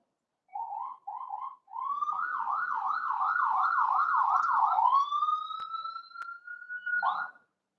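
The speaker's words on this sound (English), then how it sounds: "I hear police sirens." A police siren in Oakland wails in the distance, starting with a few short whoops, then a rapid warbling yelp that settles into one long steady tone.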